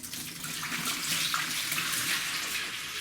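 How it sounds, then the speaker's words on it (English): Water from a bucket poured out into a sink during a washing machine repair, a steady continuous rushing splash that stays loud and even throughout, with no voices. "First try bucket. Pour out in sink."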